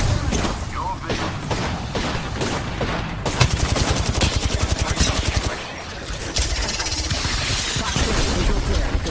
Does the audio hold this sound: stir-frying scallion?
no